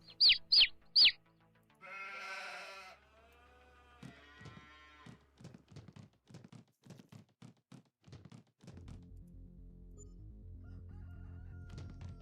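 Chickens in the Farming Simulator 25 farm game give a few sharp rooster-like calls at the start, followed by clucking and assorted game thunks and chimes, fairly faint with no talking.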